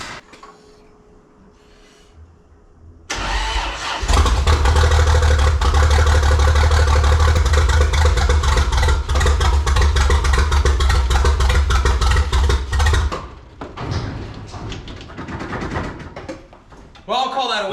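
A Toyota Land Cruiser FJ40 pulled from a junkyard, fitted with a newly assembled clutch, catches after quiet handling and then runs loud and close for about ten seconds before it drops away; people talk around it.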